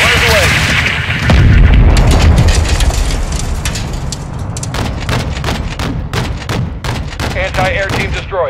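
Loud battlefield barrage in Call of Duty: Modern Warfare II as an anti-air team is destroyed: booming explosions and rolling gunfire, dense and continuous, with sharp shots cracking out through the later seconds.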